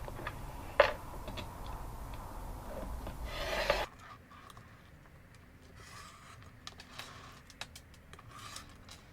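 Scissors or a rotary cutter run through a fabric strip along a template in a quiet indoor sewing space, giving soft rubbing and rasping sounds with a sharper snip near the start before the level drops.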